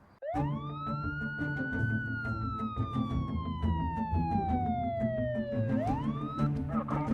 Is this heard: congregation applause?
no